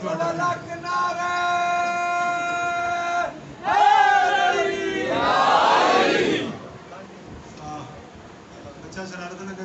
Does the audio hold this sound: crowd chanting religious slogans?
yes